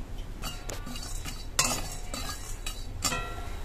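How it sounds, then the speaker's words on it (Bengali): Dry ingredients for homemade bit salt being roasted in a wok with no oil, a spoon scraping and clinking against the metal in irregular strokes, close and moderately loud. "এবার এগুলোকে দিয়ে দেবো কড়ার মধ্যে, হালকা একটু গরম করে নেব"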